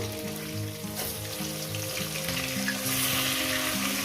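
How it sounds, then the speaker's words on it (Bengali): Rohu fish pieces fry in hot oil for a Bengali drumstick fish curry, giving a steady, close, dense sizzle that runs the whole time with no talk, while a faint tonal hum sits underneath. "মাছগুলো ভাজা হবে"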